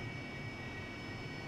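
Harrier jet engine at maximum nozzle in the DCS flight simulator, a steady, loud, unbroken roar with a broad rumbling low end and a thin high whine, no voices over it.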